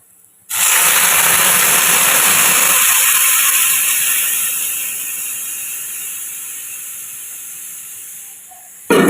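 A sudden loud hiss as milk hits a hot pan of roasted semolina, sizzling strongly at first then gradually fading to a softer simmer.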